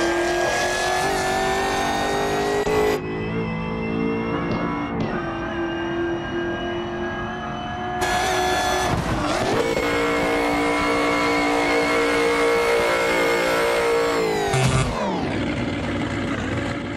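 A Chevrolet Camaro in BeamNG Drive roars close and loud, its engine revving and shifting through gears with sudden jumps in pitch and a brief tire squeal near the end, no voices.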